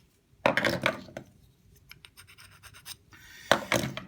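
Knife spine scraped down a ferro rod on a paracord bracelet, producing two bright, raspy strikes about three seconds apart, with a quieter scraping rustle between them, close and alone with no talk.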